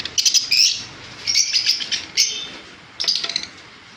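Bright, high-pitched chirps from Fischer's lovebirds at a bird shop come in quick clustered bursts with short pauses between them, close by and fairly loud, with no talking.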